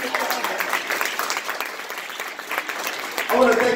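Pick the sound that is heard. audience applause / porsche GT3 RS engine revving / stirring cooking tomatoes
audience applause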